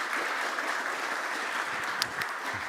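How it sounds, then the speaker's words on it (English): Audience clapping for the panelists at a blockchain conference held at the OeNB, a soft, even patter of applause heard at a distance. "Big applause for the panelists."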